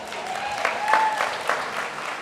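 A graduation ceremony audience claps in dense, sustained applause inside a hall, with a faint electronic whine from the sound system running beneath it.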